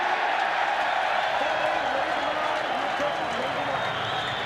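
A rugby stadium crowd cheers and applauds at a 1996 Super Rugby match between the Blues and Hurricanes, a continuous broad roar at moderate distance with no clear peaks.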